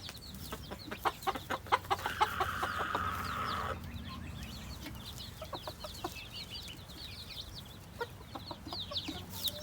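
A hen clucks in a rapid series of short, fairly close calls, joined by other chicken sounds and a drawn-out call in a farmyard setting.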